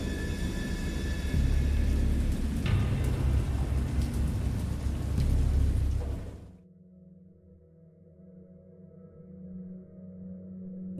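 Heavy rain pours with rolling thunder during a thunderstorm, loud and dense for about six seconds before dropping to a faint, low rumble that slowly swells again.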